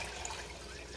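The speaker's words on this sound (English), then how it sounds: "we have 4 cups of chicken stock that we're just going to pour right in" Chicken stock, four cups of it, pours steadily into a pot of pasta fagioli, a continuous liquid rush with no talking.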